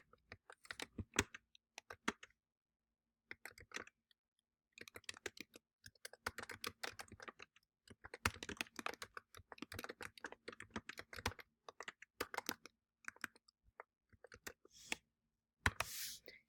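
Fingers type on a computer keyboard in quiet bursts of soft, close key clicks separated by short pauses, with no talking.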